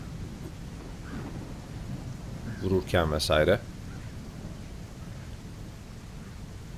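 A thunderstorm with steady rain in the survival building game Sherwood Builders hisses on throughout, and a thunder rumble swells briefly in the middle while someone talks quietly over it.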